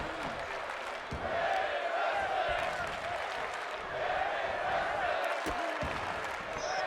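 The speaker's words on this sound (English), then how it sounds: "now the crowd getting behind Tifa as she gains, or as she has this late match surge" A wrestling crowd cheers and claps for Tifa during a late-match surge, a steady swell of arena noise with a few sharp thuds from the ring cutting through.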